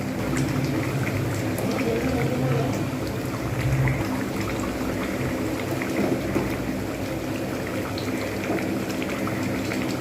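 Chicken curry with potato boils in a pot, a steady dense bubbling and hissing that holds at an even level for ten seconds with no speech.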